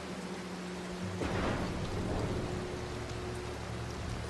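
Stormy weather in the stealth game Mark of the Ninja: steady rain hisses throughout, with a low thunder rumble swelling near the middle and lingering under a constant background hum, no talking.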